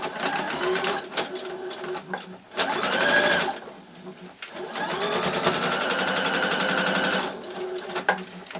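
A domestic sewing machine stitches the lining of a zippered tote bag in bursts of fast, close whirring, pausing between runs while someone talks over it.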